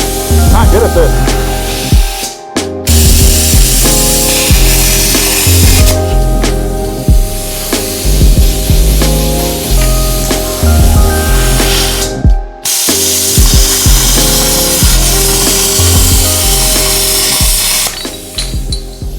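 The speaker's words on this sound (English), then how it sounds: "The plasma cutter has done pretty well with 1/4 inch steel at 55 amps" A Harbor Freight plasma cutter running at 55 amps slices through 1/4 inch steel with a loud, steady roaring hiss and an underlying electric buzz. The sound cuts off briefly twice, then restarts.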